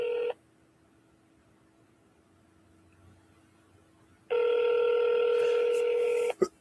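A phone line rings back during an outgoing call: a short burst of electronic ringing tone, then a few seconds of quiet line, then a longer steady burst of ringing, fairly loud and close, with no talking.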